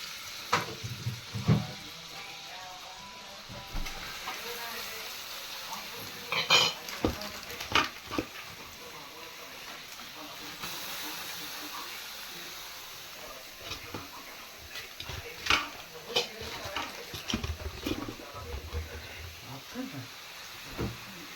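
Carrots sizzle in hot ghee in a pressure cooker, a quiet steady frying hiss broken by scraping stirs and clinks of a spoon against the pot, heard up close.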